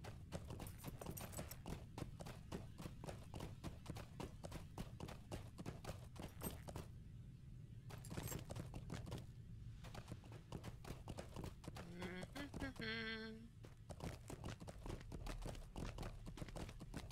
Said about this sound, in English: You know, I can ride a horse.